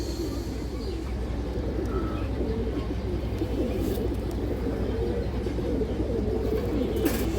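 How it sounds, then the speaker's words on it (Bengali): Green-necked pigeons coo steadily in a low, rolling throaty murmur, a dense, continuous chorus of several birds close by, with occasional faint clicks and rustles above it. "সবুজ গলা কবুতর"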